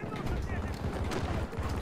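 Gunfire from a Battlefield video game with an M5 rifle, dense overlapping shots and bursts packed throughout, loud and continuous, with a faint voice mixed in underneath.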